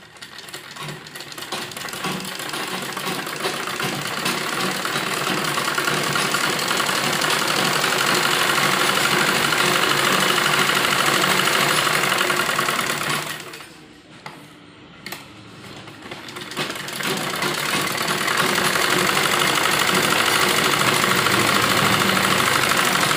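A sewing machine stitches fabric for a baby kurti frill sleeve, a loud steady mechanical whirr running nearly nonstop, breaking off briefly midway before resuming at full pace.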